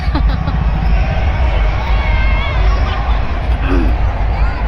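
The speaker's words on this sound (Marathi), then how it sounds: "एवढी गर्दी बघा पंचवटीवर" A dense festival crowd at Panchavati in Nashik on Rangpanchami, a loud continuous outdoor hubbub of many voices and movement, with nearby people talking over the steady crowd noise throughout.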